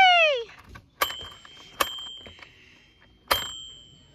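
A small bell on a toy rings with a bright metallic ding and decaying ring, followed by three sharp clanging strikes spaced about a second apart, each trailing a sustained tone, close and fairly loud in a quiet setting.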